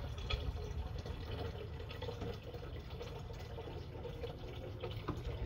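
Rainwater runs from a rain barrel tap into a container, a steady low gushing fill under faint outdoor ambience, with no talking.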